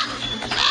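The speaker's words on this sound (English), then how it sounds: "Birds chirping" Bird calls in the horror video game Pumpkin Panic, a short, fairly loud burst of cawing, crow-like cries over a steady ambient backdrop, with no talking.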